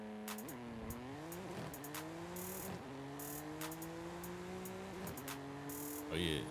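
A 2021 BMW M4 Competition with a 930 HP drag tune launching in Forza Horizon 5. The engine revs climb through repeated rising pitch sweeps with sharp shift breaks roughly every second, loud and close, with tire noise underneath.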